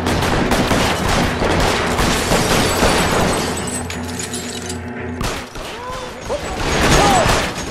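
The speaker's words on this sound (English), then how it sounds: "I shot him in his ear" Rapid bursts of gunfire ring out from the LA Noire video game, loud and close, a dense fusillade of overlapping shots through the first half, followed by a quieter stretch with scattered mechanical sounds.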